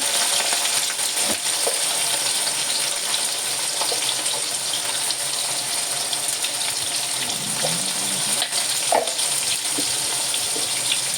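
Potatoes seasoned with turmeric and salt crackle and sizzle in a pan, with steady frying hiss and the occasional scrape of stirring, close and continuous with no talk.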